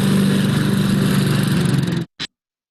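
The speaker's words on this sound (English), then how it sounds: "A lawnmower." A running lawnmower engine drones steadily and loudly at close range, with a low pulsing hum, then cuts off abruptly, followed by a brief short burst.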